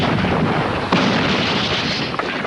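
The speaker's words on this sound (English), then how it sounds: "Cannon to right of them, cannon to left of them, cannon behind them, volleyed and thundered." Cannon fire booming in a dense, continuous barrage, heavy and loud throughout with one sharper blast standing out near the start.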